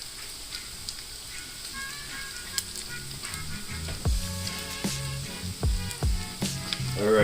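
Beef short rib meat sizzles steadily while browning in a pan, a soft constant frying hiss with sharper crackles and clanks of stirring toward the end.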